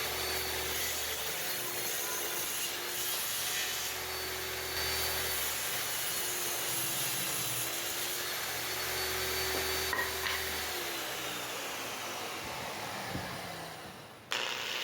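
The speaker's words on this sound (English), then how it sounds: "I'm straighten up the panel using my grinder with the lower variable speed" A variable-speed grinder runs at low speed, smoothing and straightening a scrap wood panel. It gives a steady, continuous whirring and rasping drone, close by, that dips slightly near the end, with no talk.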